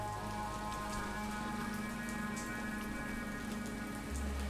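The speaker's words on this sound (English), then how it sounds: "With this downpour, I wasn't expecting anyone here." Steady heavy rain pours down in a dense, even wash of drops, with a low hum underneath and no voices.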